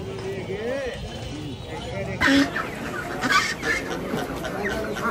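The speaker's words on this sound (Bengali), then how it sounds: "এখন আমরা হাঁস কিনছি" Ducks and chickens cluck and squawk at a busy poultry market, close and intermittent, with people talking throughout and a couple of louder bursts of noise.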